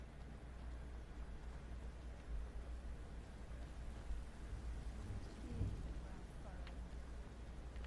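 A thunderstorm pours steady rain with low rumbling thunder, a faint continuous wash of rainfall with distant rolls of thunder throughout.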